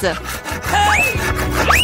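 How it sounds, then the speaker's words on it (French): Rough back-and-forth scraping like sawing through something hard, with squeaky rising tones over the grinding strokes. "Je pense que nous allons avoir besoin d'une scie."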